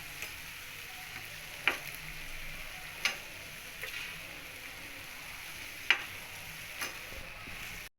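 Jalebi frying in hot oil gives a soft, steady sizzle, broken by a few sharp clicks as pieces are turned in the pan; no one speaks.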